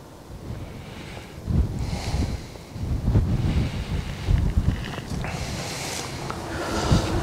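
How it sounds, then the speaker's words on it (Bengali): Strong wind blows across the microphone at a hilltop viewpoint in Cherrapunji, a loud, uneven rumbling buffet that gusts and surges throughout with no talk. "বেশ ভালোই হাওয়া দিচ্ছে"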